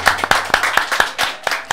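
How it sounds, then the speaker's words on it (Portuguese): Hands clap in a quick, uneven run of sharp claps during a Brazilian radio interview with a band, the beats close and fairly loud with a faint hum behind. "Vamos bater palmas aqui."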